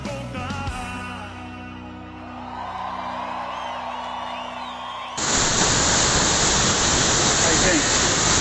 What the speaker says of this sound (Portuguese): Cachoeira Vermelha.